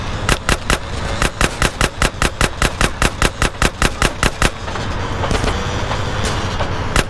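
Rapid automatic gunfire in GTA San Andreas: a loud, steady burst of about twenty evenly spaced shots, followed by a few scattered shots over background noise.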